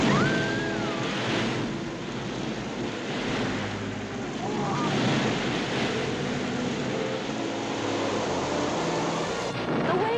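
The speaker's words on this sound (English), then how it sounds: "The waves are reaching us." Ocean waves surge and wash in an animated Noah's ark story, a continuous rushing roar mixed with wind, with faint musical tones rising over it.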